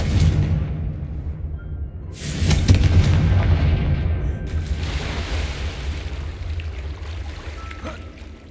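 In the Hogwarts Legacy video game, a Confringo blasting spell goes off as a deep booming explosion, followed by a second rumbling blast a couple of seconds later, both over a continuous low roar.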